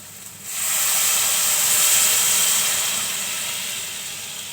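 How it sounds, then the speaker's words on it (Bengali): Water poured into a pan of fried masoor lentils sets off a sudden loud hiss of steam and sizzle that holds steady, then slowly fades, with no voices. "এখন আমি এখানে পানি দিয়ে দেব।"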